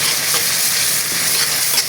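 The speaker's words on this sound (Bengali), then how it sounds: "ভালোভাবে মশলাটা কষিয়ে" Close, continuous sizzling and scraping as onion, chili and turmeric spice paste is stirred and fried in a pan for mixed-fish curry, with a steady crackle and no talking.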